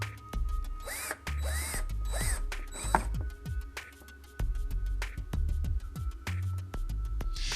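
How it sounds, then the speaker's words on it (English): Wooden bins for holding flashcards are screwed into place with a power driver in short bursts of whirring and ratcheting, separated by clicks and knocks of the wood, close and loud with no talking. "It's really only a matter of screwing in the bins that will hold the flashcards"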